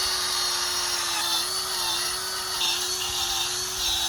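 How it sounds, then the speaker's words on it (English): A power drill boring holes in garden soil for planting bee balm, a steady high-pitched motor whine running nearly continuously with brief dips in pitch as it bites in. "So I'm going to just drill some holes."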